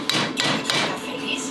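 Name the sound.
hammer tapping pin into Predator 212cc engine block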